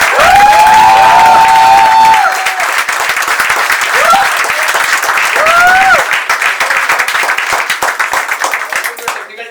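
Loud applause and cheering from a theatre audience for the actors at the end of a play, steady clapping throughout, with whistles, shouts and voices mixed in.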